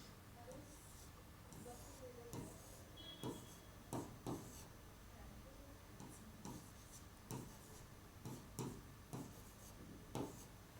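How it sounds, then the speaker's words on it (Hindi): Marker or chalk strokes on a board in a reasoning class, a steady string of short taps and scrapes arriving every half second or so, quiet and close over a low room hum. "लिख के दिखाना पड़ेगा आपको"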